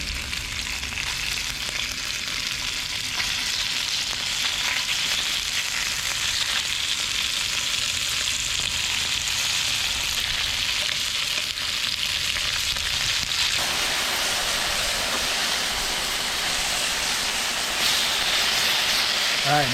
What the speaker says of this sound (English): Our wok is warmed up, so let's go ahead and start cooking up our beef here